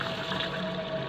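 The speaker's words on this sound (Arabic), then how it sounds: "هنزل اللي في المصفى تمام كده وهدي الميه عليها" Water poured over items sitting in a kitchen strainer, a continuous close rushing splash and trickle lasting about a second, steady in loudness with no voices.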